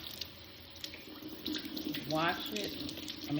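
Half a cabbage is rinsed under a running kitchen tap, with a steady stream of water spattering and splashing that grows louder partway through.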